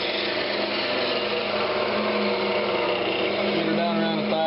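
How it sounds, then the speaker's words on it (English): A wood lathe spins a Brazilian cherry lidded box, giving a steady, loud whirring hum that runs throughout with broad high hiss and a slight pitch change near the end as it slows. "I need to slow the lathe down a little bit."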